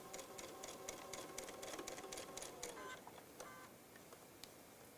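Sewing machine stitching a fabric basket about 1 mm from the edge, a steady run of rapid mechanical stitching pulses, close and moderately loud, easing off toward the end with a few lighter clicks.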